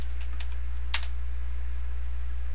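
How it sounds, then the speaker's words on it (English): A password typed on a computer keyboard in a Linux terminal, a few soft separate key taps followed by one sharper click, close-up over a steady low electrical hum. "You type in your password"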